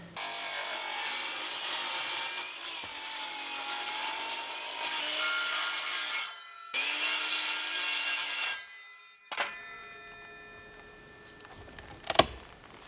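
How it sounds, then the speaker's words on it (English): Circular saw cutting through OSB roof sheathing between trusses on a workshop roof: a sustained, loud whining rasp of blade through wood, a short pause, then a second cut, followed by quieter handling clatter and a few knocks. "I'm just going to be using my circular saw to cut out a small section of that OSB between my trusses"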